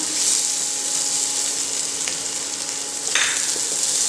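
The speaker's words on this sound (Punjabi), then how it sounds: "ਹੁਣ ਇਹਨੂੰ ਆਪਾਂ ਪਿਆਜ਼ਾਂ ਦੇ ਵਿੱਚ ਭੁੰਨ ਲੈਣੇ ਆ ਜੀ ਲਸਣ ਨੂੰ ਲਓ ਜੀ ਹੁਣ ਇਹਦੇ ਵਿੱਚ ਐਡ ਕਰਦੇ ਆਪਾਂ ਹਰੀਆਂ ਮਿਰਚਾਂ" Green chillies frying with onions and garlic for a cauliflower gravy, a loud close, even sizzle throughout with a couple of faint clinks from the pan.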